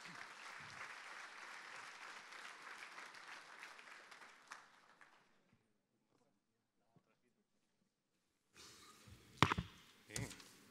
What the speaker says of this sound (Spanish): Un aplauso para Ricardo, por favor, adelante.